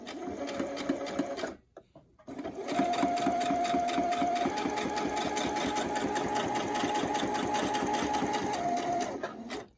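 Household sewing machine running steadily through cotton fabric while stitching a face mask, a close, even mechanical whir with rapid needle rhythm that pauses briefly near the start and then continues without stopping.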